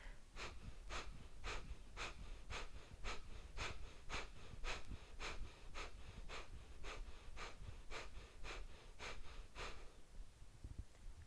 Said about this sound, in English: Sharp exhales out through the nose.